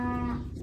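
A calf moos once, loud and close, from inside a livestock trailer holding nine calves and cows, a steady low bellow lasting under a second.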